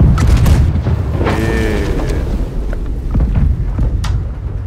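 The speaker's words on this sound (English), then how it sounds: "So the front cannon can take a shot." A heavy ship's front cannon boom thuds out in the video game Blackwake, followed by rumbling and mechanical creaks.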